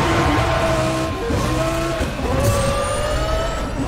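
A car in the racing game NFS The Run braking hard, its engine droning steadily while the tires squeal in long tonal streaks, loud and continuous, with no talk.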